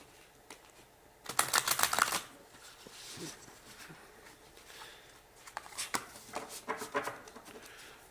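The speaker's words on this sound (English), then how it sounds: "I'll shuffle a couple more times." Tarot cards being shuffled by hand, a couple of bursts of crisp riffling and papery flutter, one loud flurry early and softer shuffles later, close and otherwise quiet.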